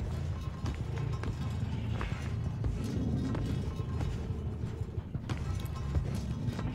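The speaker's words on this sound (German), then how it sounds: "Ich hab doch hier Schritte gehört," Footsteps running in the video game Dead by Daylight, a quick rhythmic patter of steps over a continuous low rumbling background at moderate volume.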